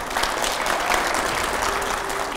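A studio audience at a televised political interview show claps loudly and steadily throughout, a dense, even wash of applause with no voices on top.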